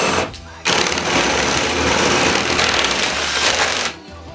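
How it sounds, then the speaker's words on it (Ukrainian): A DeWalt DCD 100 cordless drill bores steadily at second speed, giving a loud continuous whine that holds for about three seconds and then stops abruptly. "Без проблем сверлить, не відчуває. З рук аж вириває."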